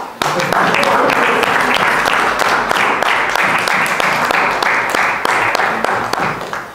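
A room full of people clapping at a Toastmasters meeting in Rwanda, continuous and fairly loud applause with scattered sharper claps, holding steady before tapering slightly at the close.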